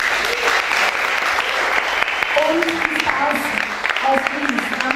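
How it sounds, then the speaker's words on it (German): An audience at a Grease musical event applauds loudly and steadily, a dense wash of clapping throughout, while someone speaks over it. "Ich darf Sie an dieser Stelle mal um einen riesengroßen Applaus bitten."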